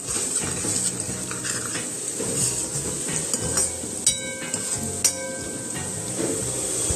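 Chicken curry ingredients fry and sizzle in a pan with a steady, close hiss, broken by occasional stirring and clinks of a utensil against the pan.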